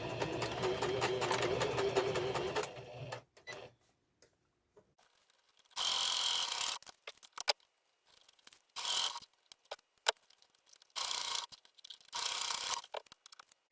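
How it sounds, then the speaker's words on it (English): A sewing machine stitching the seams of a one-piece cover for a butterfly Tripolina chair runs in close, steady bursts, one long run at the start and then several shorter stitching spurts separated by pauses. "So I'll stitch a 1/2 inch on both sides on all the triangles."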